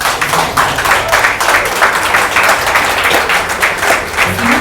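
An audience applauds at the 22nd edition of an African awards ceremony on good governance. The clapping is dense and sustained and fills the hall at a steady, loud level, with no talk above it.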